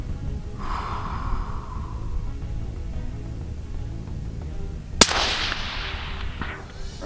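A single sharp rifle shot cracks out during 300-yard long-range group testing, a loud sudden report followed by a rushing decay, after a stretch of quiet breathing and a muffled rustle near the shooter.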